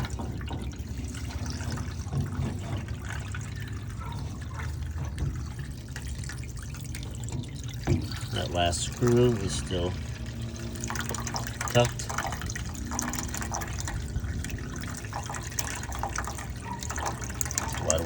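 Water drains from the pump of a GE washer that is not draining or spinning, a steady trickle and splash of liquid running under a voice as he talks, with some clinking partway through.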